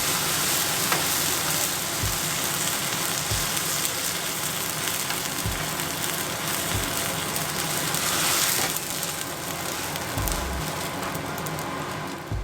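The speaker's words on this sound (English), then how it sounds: "Now I'm gonna add 450 ml of ramen stock." Ramen stock is ladled into a hot pan, producing a loud, steady sizzle and hiss throughout, with occasional low thuds from the ladle or pan.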